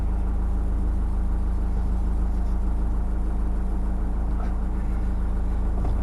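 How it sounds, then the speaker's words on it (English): A vehicle engine idles in a steady low rumble, close and continuous, with an even mechanical drone and no talking over it. "Just start the engine up to go"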